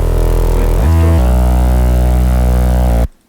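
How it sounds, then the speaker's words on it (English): A heavy distorted synth bass layer roughened with white noise, for a drop in an electronic track, plays as a loud sustained tone with a brief pitch change near the start, then cuts off abruptly. "So I distorted the sound with a white noise,"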